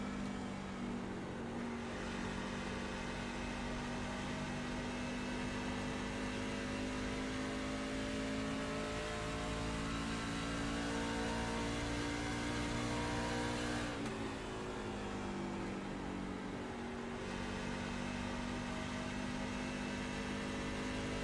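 Race trucks lap Nashville Superspeedway in a Truck Series event at the Music City 200, their engines a steady, loud drone with shifting pitch as they pass. No voices are heard over the engines.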